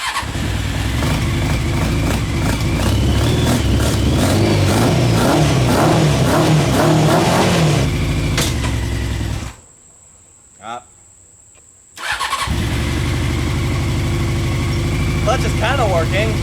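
A Honda CBR 600 engine in a reverse trike runs loud and close with a steady throbbing idle and rising revs during a clutch check, then cuts out for about two seconds before restarting and running on.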